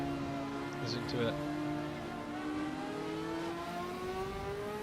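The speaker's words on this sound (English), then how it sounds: "Sounds fucking close to an F1 car, that does. It's that high pitch, high tone." A race car engine in a racing video game, a Porsche or F40 at Brands Hatch or the Nordschleife, holds a high-pitched, steadily rising whine throughout with a brief shift partway through.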